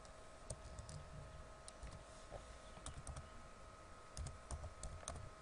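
Fast, steady typing clatters across a computer keyboard in a quiet room, the key clicks close and fairly soft with a few louder strikes, no voice over it.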